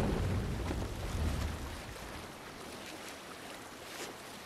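A sailing ship moving across ocean waves in the Assassin's Creed Valhalla game, with a steady broad rush of water and wind that starts heavier and eases slightly, with no talk.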